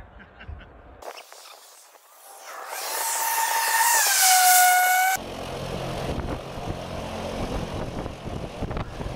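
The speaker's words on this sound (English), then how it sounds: "we dash across the runway to wait for the plane to land" A small propeller airplane roars in toward a skydiving runway, its engine tone swelling loud and close with a sweeping pitch shift before cutting abruptly to a lower rumble as it lands.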